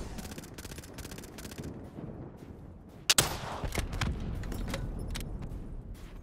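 Shots crack in a shooter video game, one loud close blast standing out in the middle, followed by fainter rapid clicks and mechanical rattles over a steady low background rumble.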